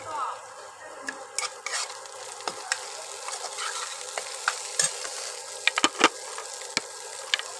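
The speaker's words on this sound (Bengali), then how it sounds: "কড়াই তেল গরম হয়ে গেছে বন্ধুরা এবার পেঁয়াজ কুচি আর লঙ্কা চিড়ে দিয়ে দিলাম" Chopped onion and slit green chilli frying in hot oil in a wok, a steady sizzle with frequent scraping stirs and light clatters of a spatula against the pan, close and without talk.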